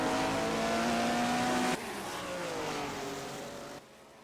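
Race cars at Mount Panorama roar at high speed, a steady engine drone that shifts pitch as they run close together in a slipstream, fairly faint and without talk.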